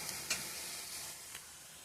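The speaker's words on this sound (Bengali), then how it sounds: "এখানে বসিয়েছি রাই শাক, কালো জিরা, শুকনো লঙ্কা ফোড়ন দিয়ে ভাজবো" Mustard greens frying in oil tempered with black cumin seeds and dried chili, giving a steady close sizzle with a couple of brief stirring scrapes.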